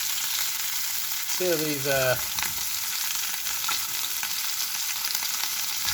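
Sausages and black pudding fry in a pan for a full English breakfast, giving a steady, close sizzle that runs throughout, with a brief voice speaking over it partway through.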